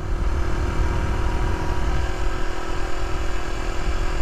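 A motorcycle engine drones steadily while riding on a road south of Penrith, with a loud, continuous rumble and wind noise at an even level throughout and no speech.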